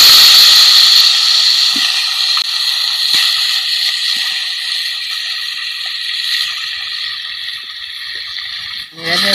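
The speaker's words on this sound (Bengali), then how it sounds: "এবার কড়াতে খানিকটা সাদা তেল দেব। আর মানকচুটা নিগড়ে নিগড়ে দিয়ে দেব।" Grated taro (mankochu) hits hot white oil in a wok with a loud, steady hiss and sizzle that holds for several seconds, dotted with small pops and a scrape near the end.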